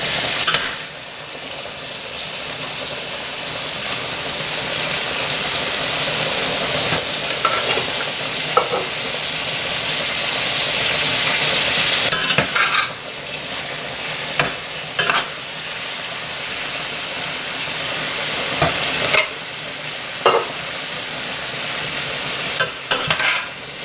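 Mahi mahi sizzles loudly in a pan while it is stirred, with continuous frying hiss and intermittent scraping and clacking of the utensil against the pan.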